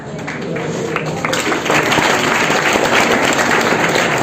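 An audience at a district youth conference breaks into applause, the clapping swelling from moderate to a loud, steady crowd ovation that holds to the end.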